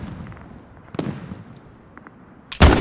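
Tank cannon fire in an online tank battle game: a few distant muffled booms, then a loud close sharp blast at the end.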